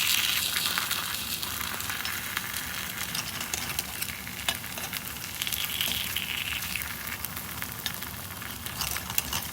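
Paneer cheese masala kuzhipaniyaram fry in a pan, a steady close crackling sizzle with small pops that stays even and busy throughout, with no voices.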